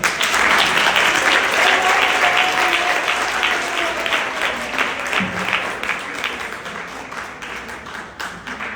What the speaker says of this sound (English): Friends, let us welcome with a warm hand clap and a song, Dr. Thandi MaThabethe Ngxongo.